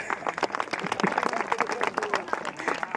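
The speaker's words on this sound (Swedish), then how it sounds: "Stor applåd till honom." Scattered applause from a small crowd at an outdoor ski jumping event, uneven individual claps with voices and chatter mixed in.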